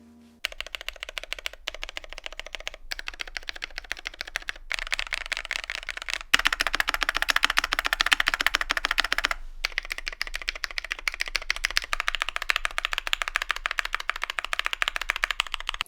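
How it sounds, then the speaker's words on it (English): A GMMK Pro mechanical keyboard is typed on in a sound test, giving a dense, fast stream of crisp clacks with a few short pauses, close and clear with no voices. "I think a sound test demonstrates this best,"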